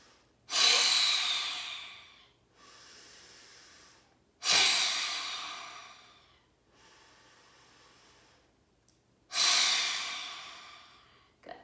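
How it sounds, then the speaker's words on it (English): Three forceful lion's breath exhalations as a breathing exercise, each a loud, close, breathy rush that fades away. Quieter inhaled breaths fill the gaps between them. "your lion's breath, your tongue is going to point straight down to the floor"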